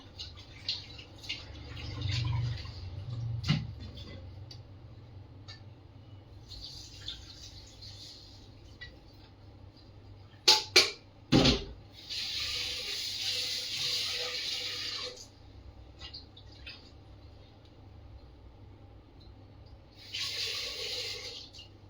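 Rice being washed in water at a basin, with intermittent bursts of running and splashing water, a few sharp clinks around the middle and quieter sloshing between, close by over roughly twenty seconds.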